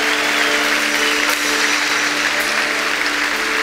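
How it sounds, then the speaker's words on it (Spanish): A church congregation at a conference gives loud, sustained applause, a dense, steady wash of clapping with a faint tonal hum underneath. "Dale un fuerte aplauso al Señor."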